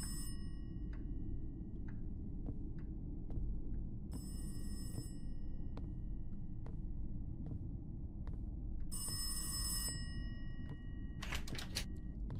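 Bursts of an old-style telephone ringing in an indie horror game set in a house, two clear ring bursts with a quieter trill at the end, over a steady low droning rumble.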